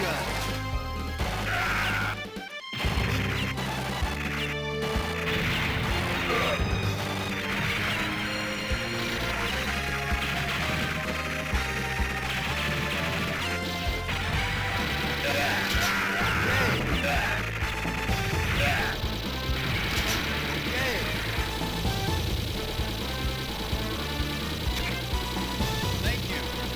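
Heavy machine gun fire in the arcade game Metal Slug, rapid continuous bursts under loud game music and crashing explosions, with only a brief dropout early on.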